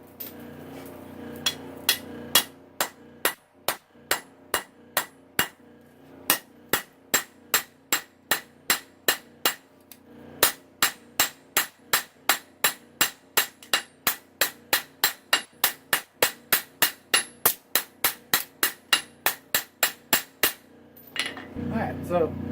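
Steady, ringing hammer blows on a steel knife blade at a forge, dozens of sharp metallic strikes in an even rhythm with brief pauses, loud and close, alone without talk.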